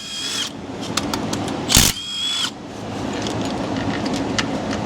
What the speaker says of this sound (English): Let's go ahead and start pulling perimeter bolts out of the front of this cover